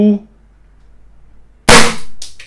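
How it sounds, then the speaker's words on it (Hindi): A Beretta M92FS CO2 air pistol fires a pellet at a box: one sharp, loud pop that trails into a short hiss, with a couple of fainter bursts after it. A brief voiced sound comes before it. "हम इस पर फायर करके देखने वाले हैं कि कितने राउंड हमें मिलते हैं"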